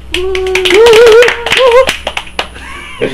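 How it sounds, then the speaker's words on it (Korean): Sudden bursts of hand clapping from podcast hosts during a broadcast, sharp and close, mixed in with voices talking and a sung-sounding phrase. "박수요 갑자기"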